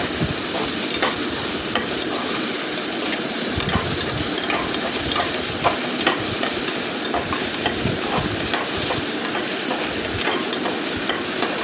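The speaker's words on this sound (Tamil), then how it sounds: "பெருங்காயத்தூள் போட்டு அதே நல்லா கொஞ்சம் கிளறி விட்டுருங்க" Asafoetida stirred into a sautéed mixture in a pan for a dal rice dish, with steady sizzling and repeated scraping strokes of a spoon, close and continuous without talk.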